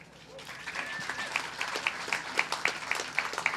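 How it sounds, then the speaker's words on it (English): A commencement audience breaks into applause, scattered at first and then building into rhythmic, fairly close clapping with a few sharp distinct claps, faint voice murmurs woven underneath. "That is worth applauding."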